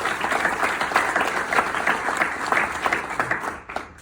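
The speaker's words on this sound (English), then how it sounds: "I think that's worthy of a round of applause." An audience at a talk on medical poverty gives a sustained round of applause, dense steady clapping that fills the whole stretch before thinning slightly at the end.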